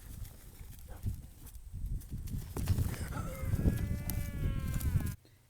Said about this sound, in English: It's a sheep, not a dog.